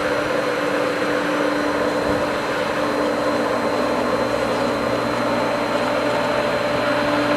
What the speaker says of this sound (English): I can hear the air coming through this valve. And there's still air in the pump, obviously.